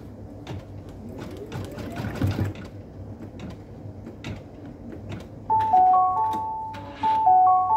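Domestic sewing machine stitching a marking line on fabric with the presser foot lowered, a steady mechanical whir with faint rhythmic ticking, moderately quiet and close.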